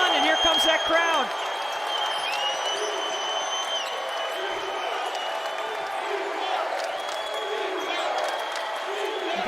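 Crowd noise rises at a college basketball game between Clemson and West Virginia during a West Virginia scoring run. A broad roar of cheering and applause sits under a commentator's voice, with squeaks from the court.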